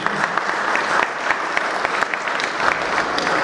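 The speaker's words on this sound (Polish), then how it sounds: "duże brawa" An audience claps steadily at an event honouring speedway figures, a continuous spread of many hands with occasional sharper individual claps standing out, and a voice faintly present beneath.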